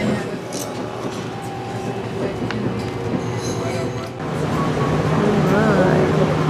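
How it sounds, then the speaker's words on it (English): A distant train rumbles and clatters past down in the Fraser River valley in Canada, with faint wheel squeal and rail noise over steady background hum; the sound grows slightly louder near the end. "Just passed a train way down there."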